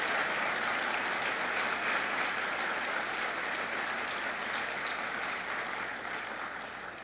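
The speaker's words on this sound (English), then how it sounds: "So let's give her a round of applause." Steady, dense applause from a large audience at a city mayoral inauguration ceremony fills the space continuously, tapering slightly near the end.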